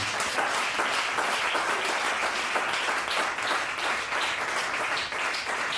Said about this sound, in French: On acclame le nom de Jésus-Christ.